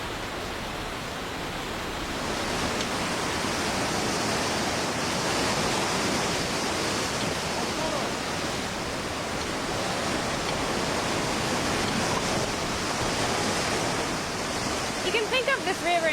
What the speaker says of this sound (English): the fast-flowing rivers that tumble through these valleys